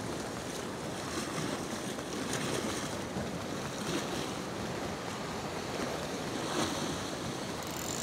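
Ocean surf keeps washing and breaking along a sea shore in a steady, continuous roar, with wind noise on the microphone throughout.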